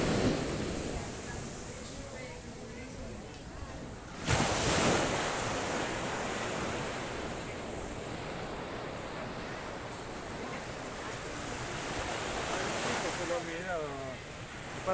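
Surf rolling onto Palm Beach in Aruba early in the day, with a steady broadband roar of breaking waves and wind buffeting the microphone, one louder gust or crash near the start.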